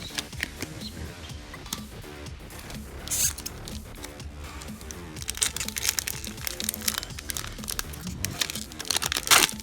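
Foil wrapper of a Magic: The Gathering Dragonstorm booster pack being torn open, a run of close crinkling, ripping and rustling bursts that grow busier and louder toward the end.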